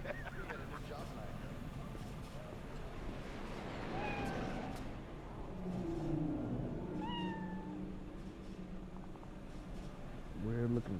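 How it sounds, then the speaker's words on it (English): A cat in the Cyberpunk 2077 video game meows a few times, short rising and falling cries standing out over a murmuring ambient background, with other in-game sounds around them. "Weird looking cat."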